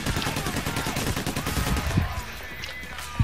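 Rapid automatic gunfire from Payday: The Heist rattles in a dense burst for about two seconds, followed by a few scattered louder single shots, with players talking over the action.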